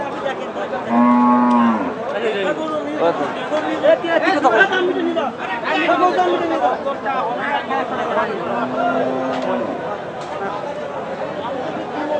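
Two long, low cow moos sound nearby at a cattle market in Bangladesh, one early and one near the end, while people chatter continuously in the background.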